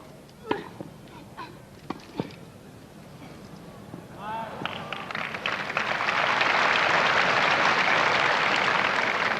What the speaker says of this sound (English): a rather sympathetic hand for Billie Jean there, as the crowd thought that she'd suffered a wrong decision